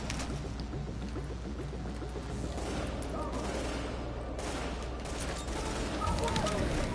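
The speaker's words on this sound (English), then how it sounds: "they obviously know where I'm at because they're shooting at me" Enemy gunfire in Tom Clancy's The Division, a continuous crackle of rapid shots at moderate distance under game ambience, with faint voices at times.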